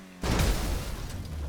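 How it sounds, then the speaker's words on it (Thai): A Vapid FMJ supercar blows up in GTA V, a sudden loud burst that hits after a quiet moment and then rolls on as a dense, roaring blast with no talk over it. "ระเบิดไปแล้วด้วยเอาสิ"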